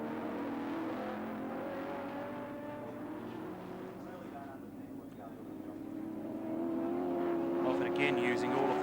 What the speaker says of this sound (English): tossing the Mazda around behind Brock's Commodore